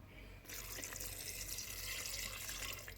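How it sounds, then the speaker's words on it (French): Water pours steadily into a Cookeo multicooker pot over tagliatelle with goat cheese, starting abruptly and running as a continuous close, rushing stream with no talk. "je viens ajouter 400 ml d'eau"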